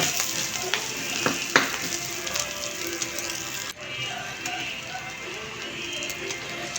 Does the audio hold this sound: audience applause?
no